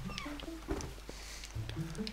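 A cat meows several times in the video game The Legend of Zelda: Twilight Princess, short rising and falling calls, fairly quiet over a low game hum.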